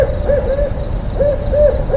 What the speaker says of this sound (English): the distant hoot of an owl punctuated the stillness